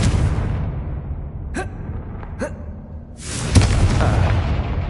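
Confringo blasting spell in Hogwarts Legacy: a short booming burst near the end, after two brief sharp snaps, loud and close with no talking.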